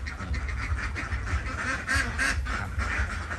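A dense chorus of many Khaki Campbell ducks on a small farm quacking continuously and loudly, overlapping calls filling the whole stretch with no pauses.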